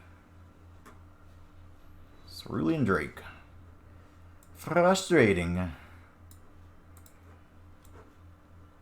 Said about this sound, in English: We got the ticker ticking down.